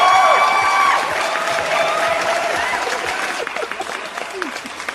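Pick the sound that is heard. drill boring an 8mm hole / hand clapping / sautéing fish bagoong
hand clapping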